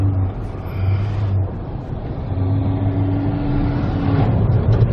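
A car drives along a street, its engine and road rumble steady and fairly loud from inside the cabin, with no voices over it.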